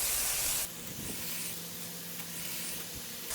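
Bacon frying on a Weber Slate 30-inch flat top griddle set to low, a steady close sizzle with a brighter hiss at the start, no talk.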